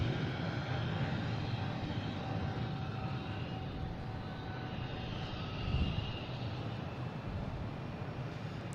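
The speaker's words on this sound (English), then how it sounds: "And we got JetBlue here. Heading to Detroit, A220," A JetBlue Airbus A220 jet bound for Detroit rumbles as a steady, moderately distant broadband roar, swelling slightly near the middle and otherwise even, with no voices.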